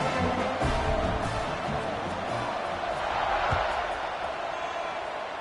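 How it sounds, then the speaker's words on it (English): Football stadium crowd at a South Carolina versus Penn State game, buzzing after a score: a dense, steady roar of many voices with scattered whoops, continuous and broad across the whole span. "this crowd is buzzing after that last score"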